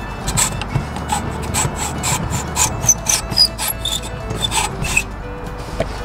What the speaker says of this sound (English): I'm gonna take a hacksaw about halfway in, and we're gonna cut straight down about halfway through the dowel.